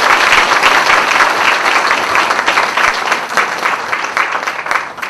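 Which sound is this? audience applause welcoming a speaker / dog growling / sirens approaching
audience applause welcoming a speaker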